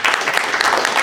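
Short burst of dense applause at a city finance committee meeting, a continuous wash of many hands clapping at moderate volume.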